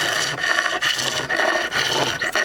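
Flat chisel shaving and smoothing a wooden surface, with repeated rasping strokes of about half a second each in a steady rhythm, close and fairly loud, with no voice.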